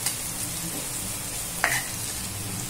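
Sliced onions sizzle in a hot pan as turmeric is stirred in, a steady frying hiss with soft scraping and one sharp metallic clink of the spoon against the pan.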